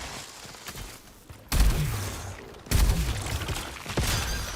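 Turret in the video game Returnal firing a spray of wires, two loud sudden bursts of sharp crackling impacts with low thumps, each followed by sustained noisy rattle, no talking.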